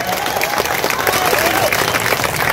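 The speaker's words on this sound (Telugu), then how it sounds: "చప్పట్ల ద్వారా గట్టిగా" A crowd claps steadily and loudly for a couple of seconds at a political party-joining rally, with a voice faintly audible over the applause.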